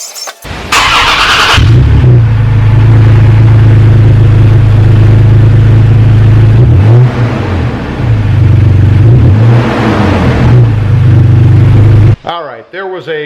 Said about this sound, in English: There was a cold start just off of the exhaust tip in the back. You guys could hear that.